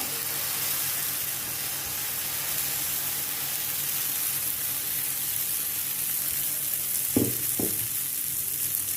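Malvani aamboli batter sizzles on an oiled griddle in a steady, close, broadband hiss lasting nine seconds, broken near the end by two brief low knocks, with no voices.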